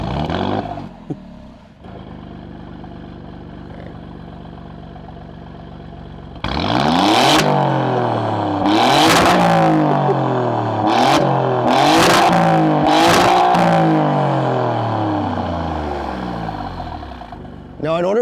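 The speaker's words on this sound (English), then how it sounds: "the exhaust system in this car, it just sounds so badass" A 2024 Alfa Romeo Giulia Quadrifoglio's Ferrari-derived engine idles with a low rumble, then revs hard repeatedly through a loud exhaust, rising and falling in sharp bursts close by.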